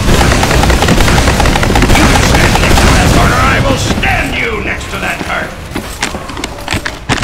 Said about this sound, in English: I got this new minigun now for my scout.